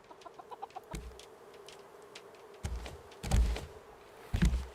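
Chickens in the ocean survival game Raft cluck softly and repeatedly, with a few louder, sharper clucks and thumps breaking through near the end.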